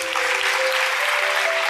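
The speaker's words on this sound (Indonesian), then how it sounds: "Kasih tepuk tangan untuk Tuhan Yesus." A church congregation claps together during a sermon, producing a loud, dense, continuous burst of applause with a sustained tone running underneath.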